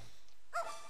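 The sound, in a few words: dog barking in the video game Zelda: Minish Cap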